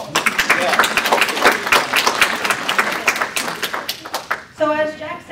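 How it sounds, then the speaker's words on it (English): Applause from a fraud-prevention seminar audience, a lively round of claps with sharp individual hits standing out, fading near the end as a voice starts speaking. "Give them a round of applause."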